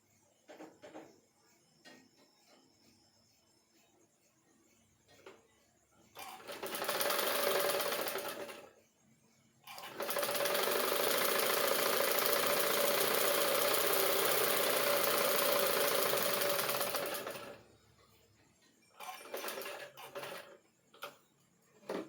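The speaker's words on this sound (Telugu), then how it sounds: "ఇలా మడిచి కుట్టుకుంటే కాజా పట్టి రెడీ అయిపోతుంది" A tailoring sewing machine stitching a folded blouse band on a 32-size blouse, with a short whirring run, a pause, then a longer steady run. It is close and loud, with faint handling clicks between runs and no speech.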